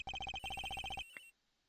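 Melodic cell phone ringtone in the Ace Attorney video game, a quick run of about a dozen rapid beeping notes that cuts off abruptly, followed by a short fading tail and quiet.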